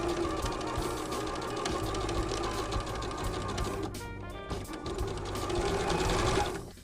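Sewing machine running continuously with a fast, even stitching patter as it sews a tiny hem on a shirred summer dress, close and steady with a brief slowdown partway.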